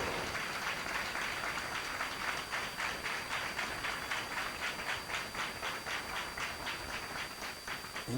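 Congregation at a Christian revival meeting in Vennikulam claps for the preachers, a distant, even wash of rhythmic clapping that holds steady throughout with no voices over it.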